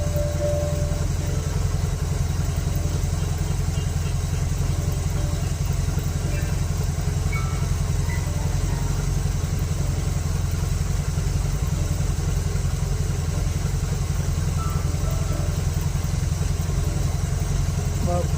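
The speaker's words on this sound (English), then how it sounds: "We want to let the engine get a little warmer." A steady, low Dodge car engine idle with a Stromberg BXVES-3 carburetor, still cold and warming up with the choke fully open, runs continuously and fairly loud, a smooth rumble with a faint clatter and no changes in pace.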